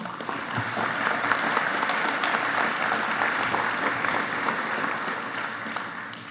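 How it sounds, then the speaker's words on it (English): Sustained applause from an audience at a high school senior awards ceremony, steady and fairly loud, clapping continuously without a break across the whole stretch. "Please, let's give these people a round of applause."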